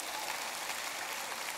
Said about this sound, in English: Let's give the Lord a clap offering.